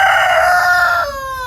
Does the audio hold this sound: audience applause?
no